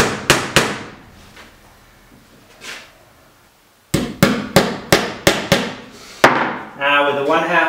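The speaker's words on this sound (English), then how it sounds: "putting them on the marks, and tacking down 1/2 of the forward seat assembly to the table" Nails are hammered to tack a boat's forward seat assembly down to a work table, giving sharp, loud, close strikes in quick bursts separated by short pauses, followed by a voice at the end.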